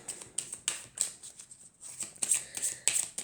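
Oracle witch cards being shuffled by hand, a run of crisp riffling flutters and soft slaps in quick irregular bursts with a brief pause midway, close and clear with no talking.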